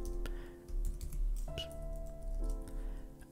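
Close, brisk typing on a computer keyboard, irregular key clicks in short bursts over a steady low hum, with no talking.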